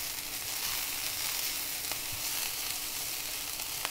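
Brussels sprouts sizzle steadily in a hot pan on a medium flame as they are stir-fried Indian style with salt, with a constant dense frying hiss and a few faint scrapes from stirring, heard alone.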